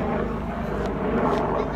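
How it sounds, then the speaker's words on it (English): A helicopter passes overhead outdoors on a street with people walking nearby, making a steady, loud rotor drone and rumble that holds throughout, with people talking over it. "Sorry about the helicopter passing by."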